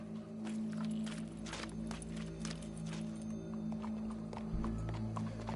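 Horse hooves clip-clop in Red Dead Redemption 2, a steady run of hoofbeats over a constant low background hum, moderately near and without talk.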